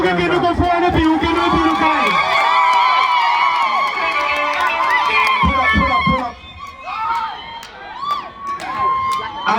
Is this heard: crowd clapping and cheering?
yes